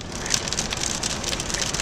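Heavy, fat raindrops drum steadily and loudly on a car during a storm, a dense continuous patter with no voices.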